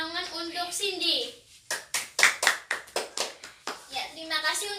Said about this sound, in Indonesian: kita beri tepuk tangan untuk Cindy